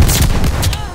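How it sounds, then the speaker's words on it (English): Gunshots in the Vanguard video game fire in a quick close burst of several loud cracks, closely spaced within a second. "Got four shots."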